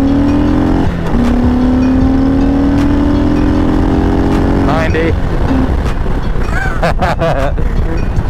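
A 2021 Harley-Davidson Heritage Classic with a 114 engine revs and accelerates up close, its loud exhaust note climbing through gear changes, with wind noise and a rider talking over it.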